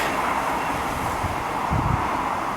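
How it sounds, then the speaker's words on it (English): Trains pass near the Grand Union Canal towpath: a loud, continuous rail rumble and rush fills the clip evenly, mixed with wind buffeting the microphone, with no speech. "I apologise for all the train noise. It sounds like every train in the country is going past me at the moment."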